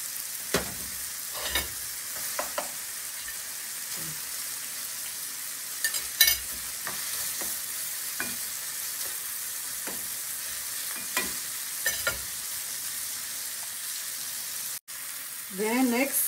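Dried cayenne peppers are stir-fried in a pan during a stir-fry of cabbage and mushroom with shrimp, a soft steady sizzle broken by repeated scraping stirs of the spatula, with a brief voice near the end.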